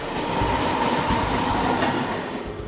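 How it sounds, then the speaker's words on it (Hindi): A 12-car Mumbai fast local train bound for Chhatrapati Shivaji Terminus runs on the rails with a loud, close rumble and rhythmic clickety-clack, and no talking. "12 डिब्बों की मुंबई छत्रपति शिवाजी टर्मिनस जाने वाली लोकल ट्रेन।"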